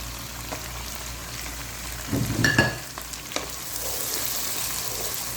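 Chicken frying on high heat in a pot with ginger-garlic paste and whole spices like star anise, black cardamom and cinnamon sizzles steadily, with a burst of louder crackling and stirring midway.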